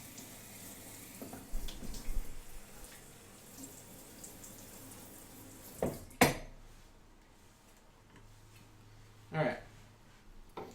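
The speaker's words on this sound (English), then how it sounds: "So I'm going to wash my knife." Tap water runs softly as a kitchen knife is rinsed in a sink, with a few clinks of metal on the basin and a voice speaking over the faint running water.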